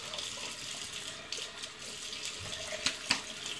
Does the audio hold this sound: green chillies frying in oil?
no